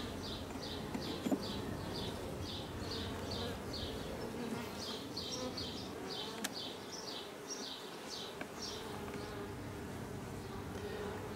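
Honey bees from a moved swarm buzz steadily and softly up close during a hive inspection, with pulsing wingbeat tones running throughout and no voices.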